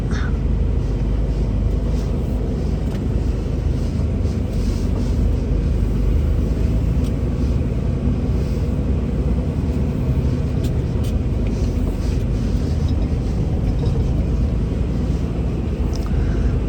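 Inside the cab of a moving truck, a steady engine rumble and road roar continue without a break, loud and close, with no clear talk over it.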